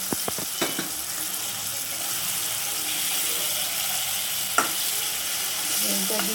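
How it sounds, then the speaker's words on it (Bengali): Boiled eggs fry in oil with tomato for an egg curry, making a soft, continuous sizzle and stirring near the pan, with a few light knocks and clinks against the cookware. "এবার ডিমটা দিয়ে দিলাম আস্তে করে"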